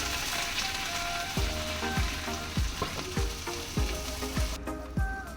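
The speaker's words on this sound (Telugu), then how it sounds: "ఇప్పుడు మనము ఆనియన్స్, పచ్చిమిర్చి వేసుకొని వేయించుకుందాం" Onions and green chillies frying with tempering spices in a pan for cabbage garlic karam, an even close sizzle with a run of regular metallic tapping strokes partway through.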